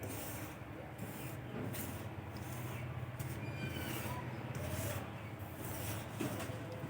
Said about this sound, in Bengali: ময়দা আর সুজি খুব ভালো করে মিশিয়ে নেব।